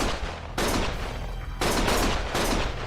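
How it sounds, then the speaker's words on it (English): Bursts of gunfire in the Lost Judgment video game, three loud sustained volleys of rapid shots close by, separated by brief lulls, no talking. "Stop shooting!"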